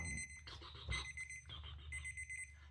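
A kitchen timer alarm rings in rapid repeated electronic beeps, loud and close, continuing steadily with no one talking.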